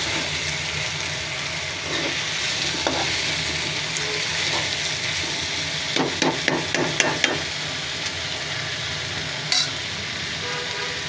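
Chicken frying with spices and radish in a pan makes a continuous sizzle, with a quick run of sharp spatula knocks against the pan partway through and one more knock later.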